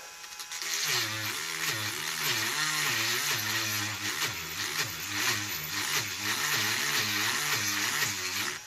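A mains-powered rotary tool with a speed dial grinds down a part on a Honda NH80 Vision scooter, giving a steady, close, high motor whine whose pitch dips and rises as the bit bites into the metal.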